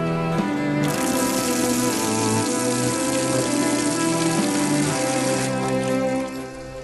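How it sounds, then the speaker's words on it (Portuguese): Water pours steadily from the tap of a historic stone village fountain in Pampilhosa, a continuous splashing rush over a musical background, with no talk. "Provida de uma torneira, a fonte continua a debitar a sua água cristalina."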